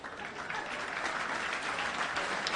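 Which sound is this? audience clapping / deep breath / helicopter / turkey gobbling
audience clapping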